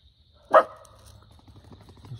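A single sharp bark rings out from a Labrador dog, fairly close, followed by faint rustling and quiet background sounds.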